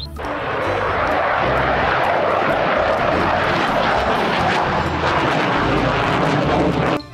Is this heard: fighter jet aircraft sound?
yes